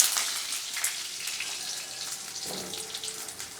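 Potato pieces tipped into hot oil seasoned with panch phoron, giving a close, hissing sizzle that is loudest at the start and then settles into a steady fry.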